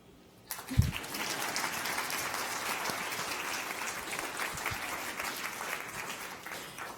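An audience breaks into sustained applause after short startup food pitch presentations, the clapping starting abruptly and holding steady and dense throughout, with no talk over it.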